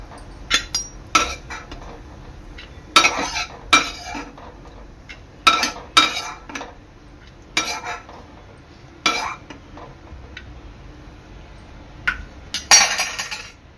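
Dry fruits being sautéed for modak in a pan, heard as scattered metallic clinks and scrapes of a spoon against the pan at an irregular pace, close by, with faint frying underneath.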